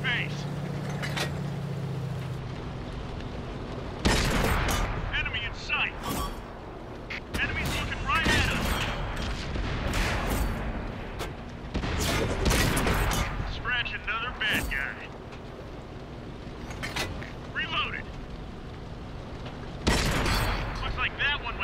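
Tank cannon shots and explosions from an online tank game ring out as repeated sharp booms and blasts at irregular intervals, mixed with mechanical engine rumble, while someone talks over the battle.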